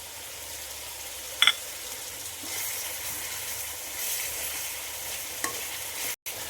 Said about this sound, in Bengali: এখন লঙ্কাগুলো দিয়ে দিচ্ছি মাংসর মধ্যে।